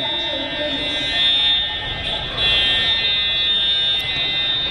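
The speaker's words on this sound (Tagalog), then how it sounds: "The fire alarm has been determined to be a false alarm." A building fire alarm in Canada, later declared false, buzzes continuously and loudly with a steady high electronic tone, while people talk nearby under it.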